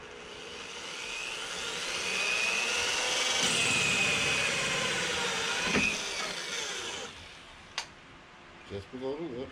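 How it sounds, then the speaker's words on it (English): A power drill whines loudly and steadily for several seconds, its pitch shifting as it bites through a plastic bucket just below the lip, then stops, leaving a few clicks and knocks. "I'm drilling just below the lip."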